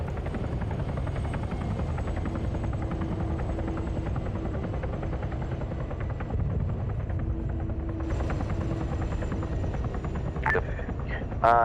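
A helicopter in a military video game drones with a steady thudding rotor throughout, loud and close, with brief sharp game sounds near the end.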